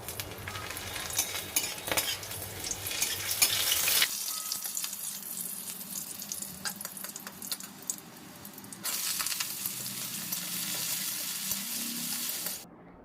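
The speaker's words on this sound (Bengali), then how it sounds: "এই পেঁয়াজটা ওদিকে ভাজা হচ্ছে" Onions frying in a pan give a steady crackling sizzle, with a few clinks and stirring scrapes; the sizzle drops back briefly midway before rising again.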